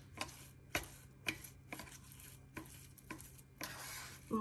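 Spoon scraping and stirring spinach into a stuffed-mushroom filling in a bowl, a series of regular close scrapes and taps roughly every half second, with no talking.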